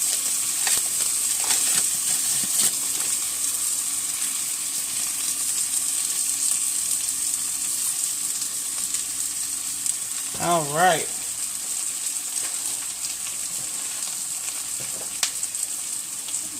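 Sticks of butter melt in a hot frying pan with a constant close sizzle and scattered pops, and a voice speaks briefly over the frying.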